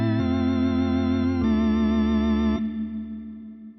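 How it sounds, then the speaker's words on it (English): A software emulation of a Vox Continental organ from Arturia V Collection 5 sustains bright, buzzy chords with a wavering chorus shimmer. The notes shift twice, then fade and trail off near the end. "So this one here is the Vox Continental Organ."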